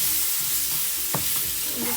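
Teriyaki sizzles steadily on a hot hibachi griddle at home while a utensil stirs and scrapes through it, with one sharp scrape near the middle.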